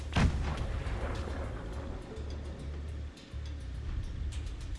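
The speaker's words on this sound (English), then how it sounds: "And that's the perk cannon." A cannon in the Rune Factory video game fires one sharp, booming blast near the start. A low rumbling game soundscape continues steadily beneath it and dips briefly near the end.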